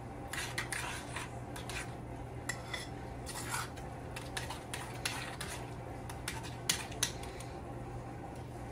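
A utensil scrapes and clinks against a bowl in quick, uneven strokes while fresh lime is stirred into a fish taco mixture, fairly quiet and close with no voices.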